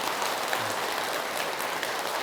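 Applause from an audience at a Buddhist monk's dharma talk, a dense, even patter of many hands, moderately distant and steady for a couple of seconds without speech.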